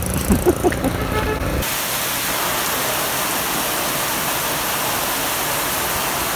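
Rain pours down in Mahabalipuram, India, as a loud, dense, even hiss. A brief voice is heard at the start before the steady downpour fills the rest.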